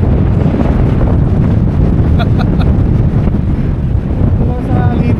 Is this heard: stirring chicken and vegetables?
no